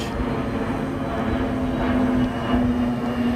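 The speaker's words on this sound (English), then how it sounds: "And there goes the plane." An airplane flying overhead, a steady, moderately loud engine drone with a constant hum throughout, heard outdoors.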